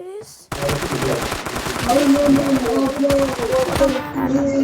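Bursts of gunfire ring out in the Standoff mobile shooter, repeated close shots over a busy game soundtrack with tonal effects and a brief voice.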